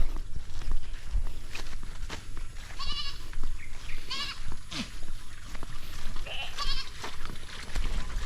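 Goats bleat several times over a rustling, shuffling background of hooves and movement, fairly close, with short wavering calls spaced apart.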